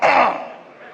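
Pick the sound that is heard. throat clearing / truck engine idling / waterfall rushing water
throat clearing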